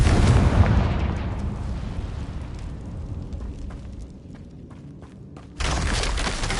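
A loud, rumbling blast from the Confringo fire spell in Hogwarts Legacy, with a heavy boom up front decaying into a long crackling rumble before another loud burst of game noise kicks in near the end.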